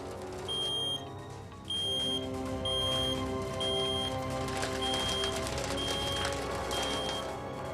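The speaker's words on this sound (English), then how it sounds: "when I heard the smoke alarm" A smoke alarm chirps in a steady repeating pattern of short high beeps during a house fire, with a low rumbling background noise underneath.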